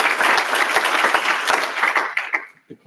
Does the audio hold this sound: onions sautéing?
no